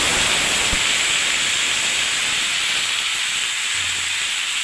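Chopped ridge gourd and potatoes hit hot oil seasoned with nigella seeds in a small wok, a loud continuous sizzling hiss that holds steady from start to finish with no talking.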